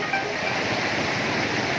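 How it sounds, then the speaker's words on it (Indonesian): The Batang Sani river at Tandikek Patamuan runs high and strong as floodwaters build, giving a steady, dense rushing roar of water that holds evenly throughout without a break. "aliran sungai sudah mulai besar"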